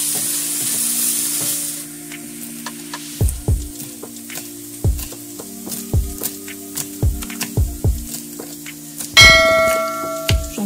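Scallion being stir-fried in a pan on low heat, a soft steady sizzle with repeated scraping strokes of a utensil against the pan, close and fairly quiet, no talking.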